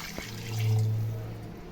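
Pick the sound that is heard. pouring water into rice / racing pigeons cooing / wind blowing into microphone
pouring water into rice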